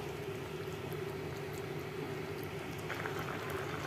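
Steady bubbling and low rumbling of coconut-milk broth with milkfish and carrots at a rolling boil in a pot, continuous and close, with no voices.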